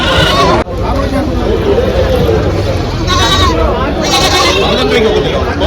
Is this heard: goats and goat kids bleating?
yes